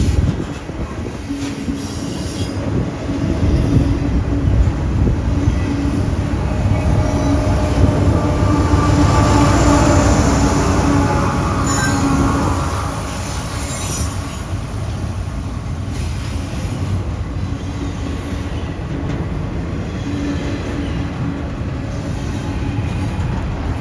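Freight train rolling through CSX's Howell Yard, a loud, steady rumble of wheels and cars lasting the whole stretch, with metallic squeal and clatter rising near the middle, then easing slightly but staying continuous.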